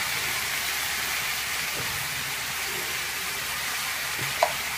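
Drumstick flowers and pumpkin flowers fry in a pan with salt and turmeric, giving a steady low sizzle with a faint stir or clink near the end and no talking.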